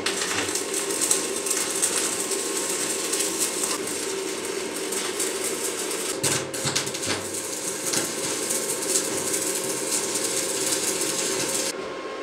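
Arc welding on a metal cow feeder, a continuous dense crackling buzz that holds steady for several seconds, with brief breaks in the arc near the middle and at the end, close up and with no talk.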